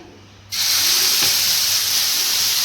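Adai batter, a Tamil sweet vallikkizhangu adai, hits a hot oiled dosa griddle with a sudden loud sizzle that holds steady and bright to the end, close and with no voices over it.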